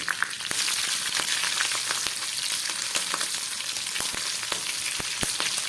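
Panch phoron, three chillies and a little shrimp fry in hot oil in a pan, crackling steadily with sharp pops and spits breaking through the continuous sizzle.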